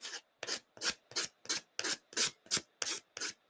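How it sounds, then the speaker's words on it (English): A nail file rasps back and forth in a steady rhythm, about a dozen quick, close scraping strokes with short pauses between. "I'm just going to sand both these edges"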